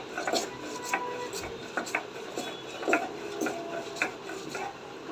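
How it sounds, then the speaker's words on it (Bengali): Chapa shutki, dried fish, being ground by hand into a paste with fried chilli, onion and a little salt: rhythmic scraping and rubbing strokes, close and moderately loud, repeating about once a second with no talk. "নিয়ে আমরা বেটে নিব"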